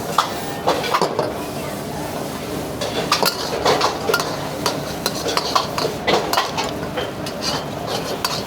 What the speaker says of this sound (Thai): ทำซอสให้ร้อนแล้วลงปลาหมึกกรอบของเราลงไปคลุก